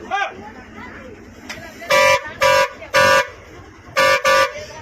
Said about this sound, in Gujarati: વાહન ચાલક હોર્ન મારે છે